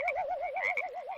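Close frog croaking as one continuous warbling, pulsing call with a rapid wobble, loud and alone for about a second.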